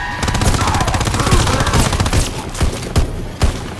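Rapid, dense gunfire in Call of Duty Zombies: loud, sustained automatic bursts fill the clip, with a few sharper separate shots near the end.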